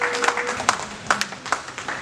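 Church congregation clapping during a sermon, a short burst of scattered, moderately faint claps with no steady rhythm.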